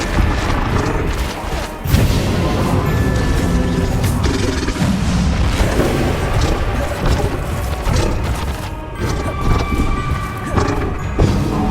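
Bombarda spells in the Hogwarts Legacy video game go off as heavy crashing explosions and thuds within a dense, continuous stream of loud combat noise.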